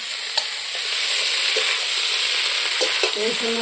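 Fried potatoes sauté with masala in a pan, giving a loud dense sizzle throughout, with a few light clicks and scrapes of stirring near the close and no speech.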